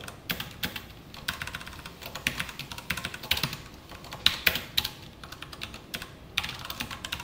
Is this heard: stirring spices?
no